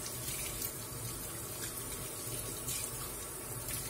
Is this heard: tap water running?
yes